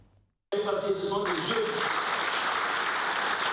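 Supporters of the Nouveau Temps pour la démocratie party cheer and applaud at an election celebration in Burkina Faso; after a brief voice, loud crowd clapping and shouting bursts in and continues steadily.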